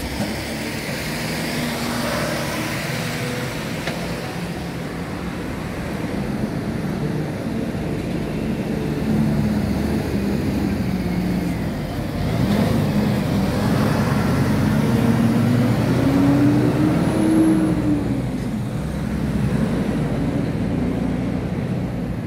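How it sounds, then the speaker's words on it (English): A car drives across a busy town road, its engine and tyre rumble steady and fairly loud, swelling slightly as it passes close amid general street traffic noise. "I'll just let the car go across."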